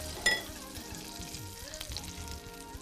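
Liquid flavored with cumin, garlic and onion is poured into a hot pot of Persian fesenjan stew, giving a soft continuous sizzle and bubbling after a brief splash at the start, close, with no talking.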